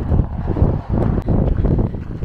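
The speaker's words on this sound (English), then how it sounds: "She's a windy one today, but that keeps the heat down." Steady, loud wind rumble buffeting the microphone on the Pacific Crest Trail, with low roaring gusts that rise and dip throughout.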